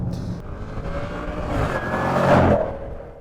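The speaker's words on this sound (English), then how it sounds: "you do get a little bit of that supercharger whine to go with the exhaust acoustics" A 2021 Jaguar F-Pace SVR's supercharged 5-litre V8 revs up alone, its exhaust note rising and swelling to a loud peak near the end, a thin supercharger whine riding over the rumble.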